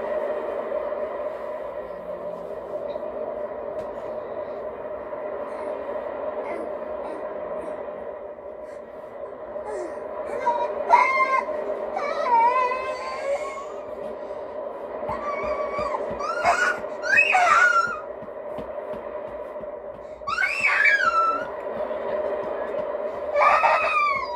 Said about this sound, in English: He's been crying for 10 minutes.